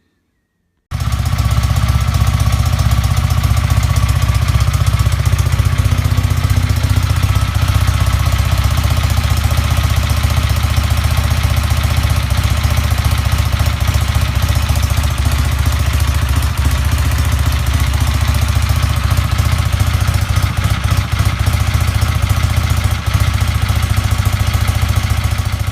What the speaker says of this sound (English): the engine was running sweetly on tick over